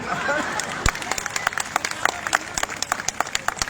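A crowd at a Delhi municipal by-election public rally applauds, with a broad burst of clapping thinning into scattered individual claps, heard fairly close, with voices mixed in.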